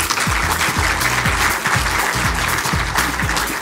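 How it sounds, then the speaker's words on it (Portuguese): Conference audience applauding: a loud, even rush of many hands clapping, close and continuous, over a low rhythmic background beat. "Por favor, doutor Almir, uma salva de palmas para..."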